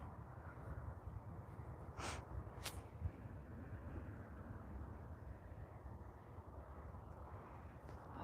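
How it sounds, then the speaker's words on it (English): An Air Canada Airbus A321, arriving from Las Vegas, comes in at Vancouver International Airport. Its engines make a faint, distant, steady low rumble that holds for several seconds, with no talk. "Air Canada flight AC1061 coming in from Las Vegas. It's an Airbus A321 aircraft."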